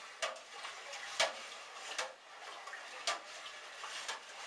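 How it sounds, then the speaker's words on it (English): A spatula stirs honey and elderberry syrup in a pot, making soft wet swishes and a few light taps against the pot at a loose rhythm, quiet and close, with no talk. "And now I'm stirring it. I'm using a spatula because it has the little holes."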